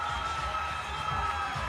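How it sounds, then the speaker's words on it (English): A crowd roars and cheers at a combat sports league event in Ottawa, a dense sustained wash of voices from a distance with no single speaker standing out. "A huge pop from the crowd as Christy Balcom"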